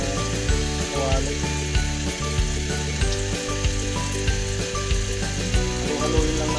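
Chicken arroz caldo with glutinous rice frying and bubbling in a nearly full pan, a dense continuous sizzle with rhythmic scrapes and knocks of a spoon stirring through the thick mixture, close and steady.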